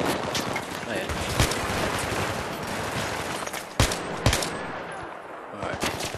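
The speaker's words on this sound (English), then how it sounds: "Stop shooting me!" Battlefield 3 combat gunfire, a continuous crackle of shots with a few sharper, louder reports standing out, mixed with game sounds and a faint voice underneath.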